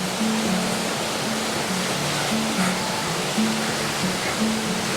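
A river runs beside a hiking path in the Langdale Valley, its steady broadband rush loud and continuous, with a faint low tone pulsing in the background.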